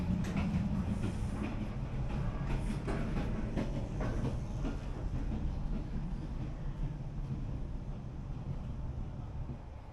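A night train rolling through Vietnam, heard from inside near the dining car: a steady, dense low rumble of wheels and carriage with faint clatter, continuous throughout and close by.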